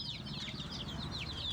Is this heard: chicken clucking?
yes